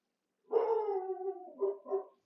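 A dog gives a single drawn-out bark that slides into a howl-like whine, followed by two shorter barks, close and fairly quiet with no talk.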